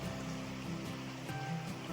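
Water of Borden Creek in the Sipsey Wilderness flows past a hiking crossing, a close, steady rushing and gurgling that carries through the whole short stretch with no voices.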